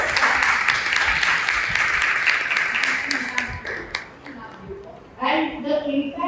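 Applause from a workshop audience of teachers, a broad wash of clapping that starts strong and steady, then thins out and fades to scattered claps, with a brief swell near the end.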